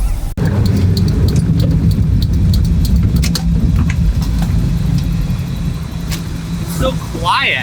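A kit car converted into a Toyota offroader, its engine running with a muffler as it drives: a steady, loud low rumble that fills the whole stretch, with occasional clicks and rattles and brief voices near the end.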